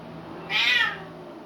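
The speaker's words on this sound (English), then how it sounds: "this cat won't stop meowing" A single cat meows once, a short, fairly loud cry, close by over a low steady background hum.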